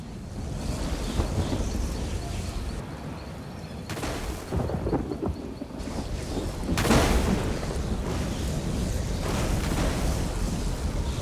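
Rolling thunder and heavy rumbling booms during a lightning storm in the Elder Scrolls Online town of Southpoint in Grahtwood, with sharp cracks around four and seven seconds over a constant windy roar.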